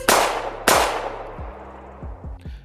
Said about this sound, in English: gunshots, please!